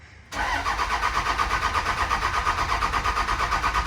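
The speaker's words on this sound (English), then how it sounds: "I think we're gonna go drive this truck." After a moment of near silence, a single cab Cummins diesel truck engine suddenly fires up and settles into a loud, pulsing diesel idle.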